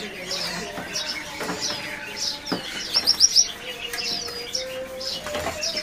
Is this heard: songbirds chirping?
yes